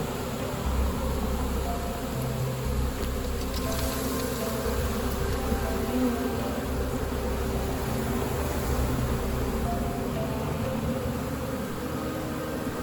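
Honeybee swarm buzzing during swarm season, a steady dense drone of many bees close by, continuous and fairly faint, with no talk.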